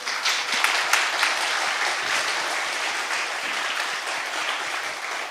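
Church congregation at a Korean Children's Sunday service applauds, a steady roomful of hand claps with a few sharper individual claps near the start, sustained and even without speech over it.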